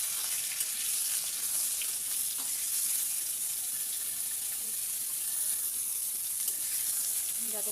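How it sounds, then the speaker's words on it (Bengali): Steamed cauliflower florets fry in hot oil in a pan, a continuous close, even sizzle and hiss with no talking. "এই তেলের মধ্যে এবার আমি কপিগুলোকে ভেজে নেবো।"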